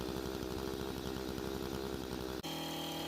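Steady, loud buzzing drone of a Stihl power tool fitted with a sickle bar attachment cutting brush, running continuously before abruptly shifting to a lower, rougher idle tone near the end.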